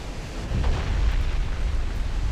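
Heavy shell impacts strike a warship in the naval game Ultimate Admiral Dreadnoughts, a deep rumbling boom swelling after a quiet start and rolling on as a low roar.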